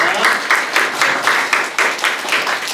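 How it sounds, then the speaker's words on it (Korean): At a church youth service, the congregation applauds scholarship students. Many hands clap in a fairly rhythmic, pulsing pattern, loud and close, continuing steadily throughout. "박수로 한번 경례하겠습니다."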